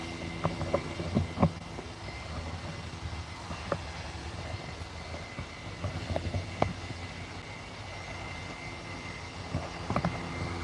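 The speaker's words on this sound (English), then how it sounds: "Just on finals now is the Ryanair from Barcelona Royce" A Ryanair airliner from Barcelona on final approach into Liverpool Airport, a low, steady jet engine rumble heard from a distance beneath faint ambient noise and scattered small knocks.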